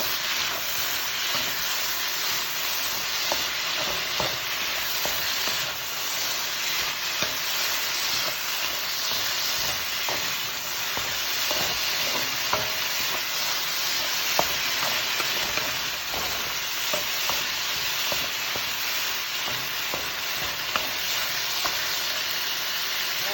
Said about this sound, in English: I have put my saltfish in, my salted pot